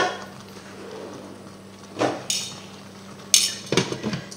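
Metal lid set onto a cooking pot on a low flame while chicken blanquette with mushrooms simmers: a few clanks and clinks of metal on metal, the sharpest near the end, over a quiet hum.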